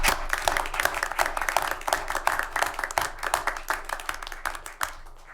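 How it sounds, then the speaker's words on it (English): A room full of people gives applause at a city council meeting, dense clapping that starts strong and gradually thins into scattered claps toward the end. "I think they deserve a round of applause for what you've done."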